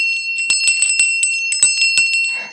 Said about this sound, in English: yes, I've got my story bell